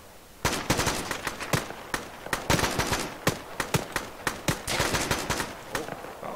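Dense automatic and rifle gunfire in the video game Arma 3 crackles in rapid overlapping bursts, loud and continuous with sharp individual shots throughout.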